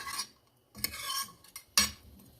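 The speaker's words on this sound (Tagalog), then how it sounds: "haluin natin siya" A spoon stirring soup in a pot, producing a few short scraping and clinking strokes against the metal with brief pauses between, close and moderately quiet, with no talking.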